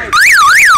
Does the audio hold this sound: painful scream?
no